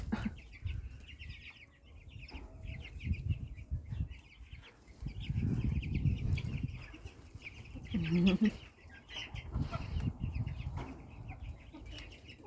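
Chicks newly released outdoors in the morning sun peep constantly in thin, rapid bursts, with an occasional cluck and low fluttering rumbles rising and falling beneath them at moderate loudness.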